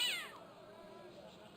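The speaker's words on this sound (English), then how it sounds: "A cat. Stroke the cat." A cat meows in the Broken Sword adventure game, one clear drawn-out cry with a falling pitch that starts loud and fades into a soft steady background.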